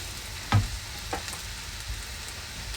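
Small scissor-cut pieces of pepper fry in a pan over a steady sizzle, with a few distinct thuds and scrapes from stirring.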